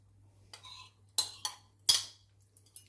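A spoon clinks against a bowl while yogurt is mixed into a chicken wing marinade, giving a few irregular scraping taps that are close and fairly quiet, with no voices.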